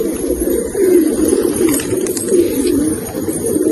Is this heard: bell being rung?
no